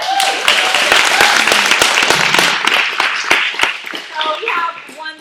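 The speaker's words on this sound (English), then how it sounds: "So clap it up for that." Audience clapping at a wellness workshop, a loud burst of many hands with sharp individual claps, easing off toward the end as voices start to come through.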